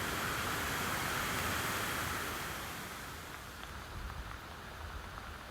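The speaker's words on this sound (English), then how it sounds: "we met with another drizzle shower passing through, driving into our faces as we clamber back up the hill towards Stean" Drizzle shower blowing across an outdoor hillside walk near Stean Gorge, a soft continuous hiss of fine rain and wind, steady and fairly faint, easing slightly partway through with no voices.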